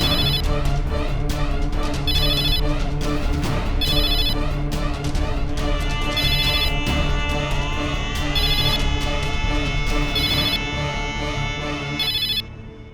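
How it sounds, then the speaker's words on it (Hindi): A telephone rings repeatedly in short bursts of electronic trills, evenly spaced over a continuous backdrop of music and ambient sound. "साहब बजी घंटी साहब"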